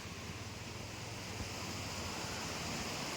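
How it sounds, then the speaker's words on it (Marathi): Bekare waterfall in dense forest, heard as a steady, dense rush of falling water filling the scene evenly with no voices. "सुंदर असं वॉटरफॉल हे घनदाट जंगल आणि हे जंगलामध्ये बेकरे वॉटरफॉल"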